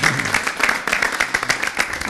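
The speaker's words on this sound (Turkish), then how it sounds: "Peki alkışlayalım gerçekten." An audience applauds in a dense, continuous patter of many hands, with a voice faintly underneath.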